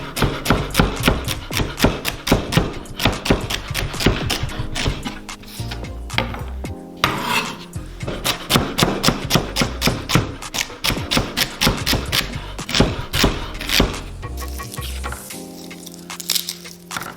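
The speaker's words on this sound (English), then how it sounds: "we're just gonna do the same to the celery. Some rough chops," A knife roughly chopping celery stalks on a board, a fast run of loud, close, sharp chops, some bursts rapid and others slower, with a brief pause partway through.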